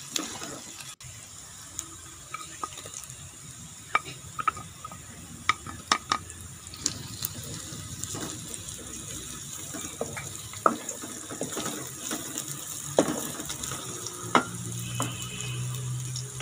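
Green chilies, ginger and garlic frying and being stirred in a pan while making gooseberry (amla) shorba, with steady close sizzling and scattered spoon scrapes and clinks throughout.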